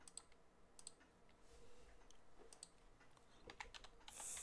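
Keys on a computer keyboard clatter in quick, irregular clicks, faint and close, with the typing continuing steadily throughout and growing slightly louder toward the end.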